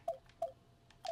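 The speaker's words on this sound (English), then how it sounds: "I got a notification for something" Electronic notification beeps from Zoo Tycoon played on Xbox One: short, clear tones that repeat a few times in an uneven rhythm, fairly quiet and with no voices over them.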